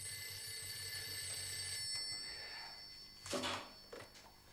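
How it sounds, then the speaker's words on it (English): A telephone bell rings at a funeral home at night, a faint thin ringing running through the first seconds over a low hum, followed by a couple of brief louder knocks or clatters near the end. "the phone rings"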